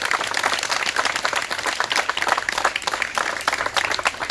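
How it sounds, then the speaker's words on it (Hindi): Loud, dense applause from a crowd at a home guard physical-training academy event in Jehanabad, steady clapping throughout with no break. "चलिए जोरदार ताली"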